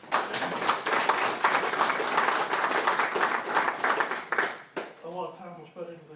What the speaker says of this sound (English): I think we should give them a round of applause for the amount of time they dedicated into this.